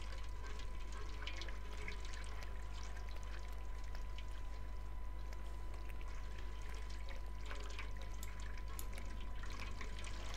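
A cat drinks water in the video game Stray, a steady wet trickling and lapping that runs unbroken for about ten seconds, close and alone with no talk.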